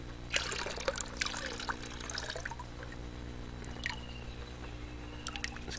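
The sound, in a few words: water being poured out while gold panning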